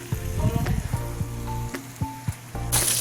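Mixed vegetables sizzle in a frying pan on a home stove, a loud close hiss broken by a few knocks and scrapes of stirring, with a brighter burst of sizzle near the end.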